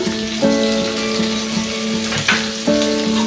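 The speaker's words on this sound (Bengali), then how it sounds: "এটাকে আমি দশ থেকে বারো মিনিট ধরে এটাকে আমি ভেজে নেবো গ্যাসের ফ্লেম ফ্লেমটাকে আমি হাইতে রাখবো" Pangas fish fries in spices, salt and Kashmiri chilli powder over a high gas flame, giving a steady close sizzle with a faint humming tone underneath and no voices.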